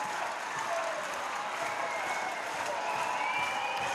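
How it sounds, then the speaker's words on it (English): England fans behind the goal at a Belgium v England Women's Nations League match applaud and cheer Fran Kirby as she walks off, a continuous distant stadium roar of clapping and crowd noise. "getting a good reception from the England fans behind that goal. It's the cheer you're hearing"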